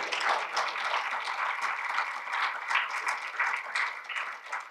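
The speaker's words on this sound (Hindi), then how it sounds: "अरे जोर से ताली बजाइए।" Audience at the P. N. Oak Memorial Lecture clapping loudly, a dense, sustained burst of many hands with rising and falling swells, close and unbroken for several seconds.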